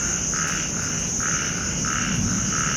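Small warty frogs, the kind called khiat bang nao in Isan, croak loudly and steadily in a dense chorus, repeating pulses about every half second over a constant shrill insect drone.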